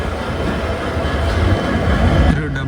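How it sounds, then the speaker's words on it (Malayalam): A WDG4 diesel locomotive hauls BCNA covered freight wagons past at close range, a loud continuous rumble of wheels and wagons with rail clatter, heard from beside the track. "WDG4 ആയിട്ട് ഒരു BCNA പോകുന്നുണ്ട്."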